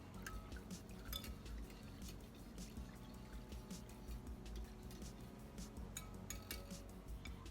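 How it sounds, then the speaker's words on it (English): A spoon stirs cornstarch into a homemade household cleaner, giving faint, steady swirling of liquid with light clinks against the container, quiet and close. "give it a stir until all of the cornstarch is dissolved"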